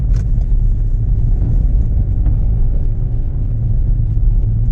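Renault Megane MK3 1.5 diesel hatchback pulling in second gear, a steady low engine drone and road rumble heard from inside the cabin, constant and fairly loud with no talking.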